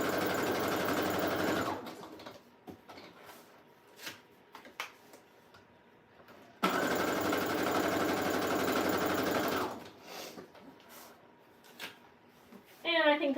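Two bursts of a sewing machine stitching a fabric bag, each a few seconds of fast, even mechanical whirring, separated by a quiet stretch of light handling noises and soft talk.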